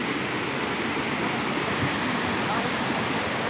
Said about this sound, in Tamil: பாருங்களா தண்ணி ஊற்றுது தண்ணி எங்கேருந்து தெரியல கீழே வந்து நீர்வீழ்ச்சி கீழே நீர்வீழ்ச்சி பாருங்கள் நீர்வீழ்ச்சி கீழே